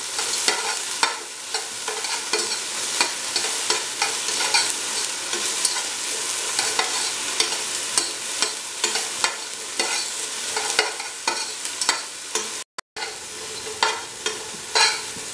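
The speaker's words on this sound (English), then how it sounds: "Keep on sauteing until the stickiness disappears from the bhindi" Okra (bhindi) sautés in a hot pan, a steady close sizzle broken by frequent scraping stirs of the spoon, carrying on continuously with no voice.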